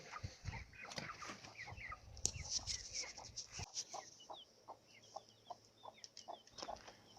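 Soft, scattered clucking from several chickens in a coop, with small chirps and a brief flutter of wings, fairly quiet and close by.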